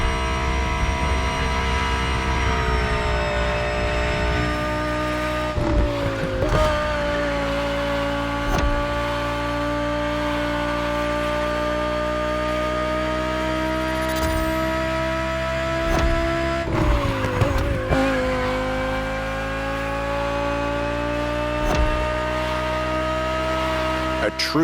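A 2020 Audi R8 LMS GT2 racing car drives in The Crew Motorfest game, its engine a steady sustained drone with a few brief gear-shift dips, loud and continuous throughout.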